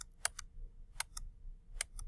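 A few quiet, crisp key presses on a calculator, spaced irregularly with short pauses between taps, over a low background hum.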